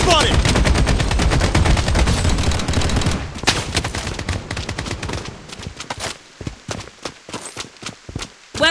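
AK-47 fire in the shooter game Project BloodStrike, a loud dense stream of automatic shots that thins into separate sharp single and short-burst cracks with gaps between them.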